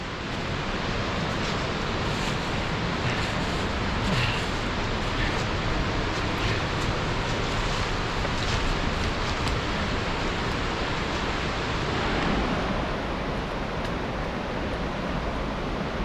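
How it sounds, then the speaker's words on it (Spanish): A waterfall on the Casaño river in the Picos de Europa mountains roars as a dense, steady wash of rushing water, loud and constant with no voices over it. "Ahí al fondo se ve un pedazo de cascada."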